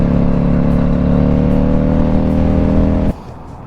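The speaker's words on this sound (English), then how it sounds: "Now this is a good bike for engine braking." A rebuilt two-cylinder Kawasaki Vulcan Classic motorcycle engine braking on the road. It gives a loud, steady, close drone that cuts off abruptly near the end.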